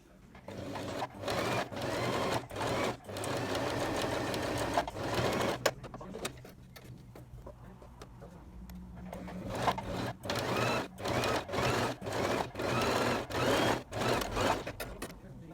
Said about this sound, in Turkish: Şimdi bunu ikiye katlayıp tekrar buradan ve buradan iki sıra dikiş gideceğiz